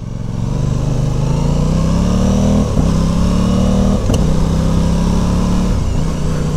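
A 2023 Aprilia Tuono 660 Factory motorcycle being ridden, its engine roaring loud and close as the pitch climbs steadily, then dips briefly at quick-shifted gear changes before climbing again.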